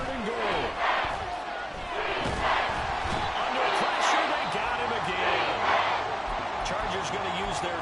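A stadium crowd in Madden 24 roars in a steady, swelling wash with rising peaks of cheering while a commentator talks over it.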